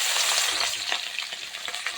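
Hilsa fish seasoned with salt and turmeric goes into hot oil, a close, bright, hissing sizzle with scattered pops and crackles that continues steadily without talk.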